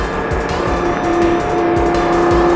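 A Lamborghini engine on a track runs loud and close under hard acceleration, a sustained roar with rising tonal whine and a faint tire squeal, the revs climbing steadily with no pause.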